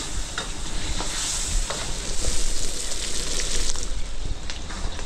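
Mushrooms sautéing in butter for a catered Pampanga feast, a steady close sizzle and crackle that runs throughout, with scattered stirring clinks and scrapes. No talking.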